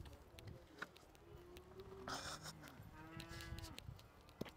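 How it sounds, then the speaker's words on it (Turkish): Cows at a highland camp (yayla) in Turkey give several drawn-out moos, one overlapping another, at moderate distance with faint outdoor background and no talk. "Burada böyle inekler var."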